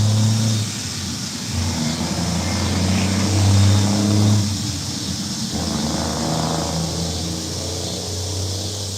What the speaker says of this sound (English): another car's going by. It's not a car. It's a big truck.